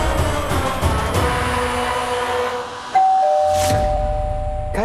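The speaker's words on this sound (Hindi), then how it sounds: "घंटी बजी, टिंग" An electronic doorbell chimes in a home, a clear two-tone ding-dong ringing out loud and close against a busy background of music or noise, its tones sustaining and fading over the final seconds.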